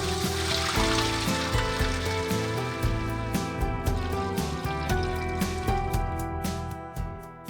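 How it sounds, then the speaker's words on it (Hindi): Oxygen aeration bubbles churn steadily in a fish farming tank, a dense, continuous bubbling and fizzing with splashy water texture, fairly close and loud. "ये जो इसमें अगर आप देखें ऑक्सीजन बबल्स बन रहे हैं"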